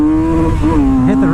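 A Kawasaki motorcycle fitted with an Akrapovic exhaust revs loudly through first gear close by, its engine note climbing steadily with a brief dip and rise, heard alone without talk.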